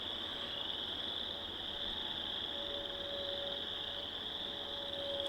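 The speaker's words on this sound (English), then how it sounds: "It's kind of hard to compete with the sound of those frogs." Frogs in a little marsh keep up a constant chorus, an even wall of trilling calls that holds steady for the whole stretch, with industrial equipment said to sit somewhere in the background.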